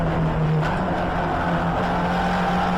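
Racing cars pass the pits at a Donington race meeting with a loud, continuous engine roar and a slight pitch shift as they go by, captured close from inside a car.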